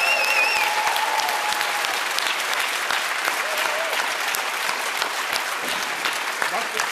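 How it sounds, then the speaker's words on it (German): A television talent-show audience breaks into sustained applause, a steady full-room clapping that carries through the whole stretch while a voice speaks faintly over it. "Ist auch ein Applaus wert"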